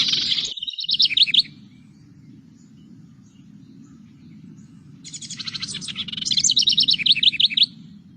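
A house wren's song played from a recording: two bursts of bubbling, rapid chirps and trills, one at the start and a longer one near the end, over a low steady hum.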